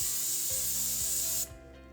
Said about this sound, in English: even layer of tacky glue spray